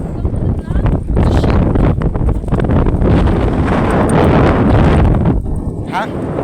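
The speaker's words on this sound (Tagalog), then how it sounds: "Lakas ng hangin." Strong wind at a beach buffets the microphone in loud, continuous gusts, with a roaring rush that rises and falls throughout.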